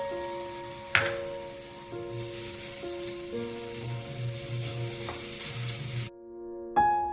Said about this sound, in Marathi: आता आपण याच्यामध्ये हा टोमॅटो देखील